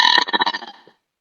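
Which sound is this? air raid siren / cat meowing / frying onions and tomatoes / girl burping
girl burping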